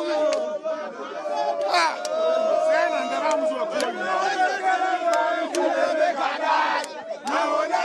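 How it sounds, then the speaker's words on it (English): A crowd of young people jeers and cheers in a blocked street, a dense, loud mass of overlapping shouts and chatter with sharp bursts and whistles throughout. "And so there they are, engaging in jeering and cheering."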